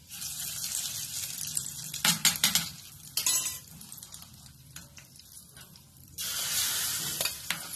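Hot oil tempered with asafoetida poured into a mixture of bottle gourd batter for appe, giving bursts of loud sizzling and crackling that come and go, with a steady hiss near the end.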